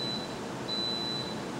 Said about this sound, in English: it will beep when it's ready.